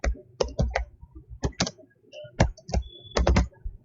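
Someone types a line of Java code on a computer keyboard, with crisp, close key clicks coming in quick irregular bursts separated by short pauses and no talking.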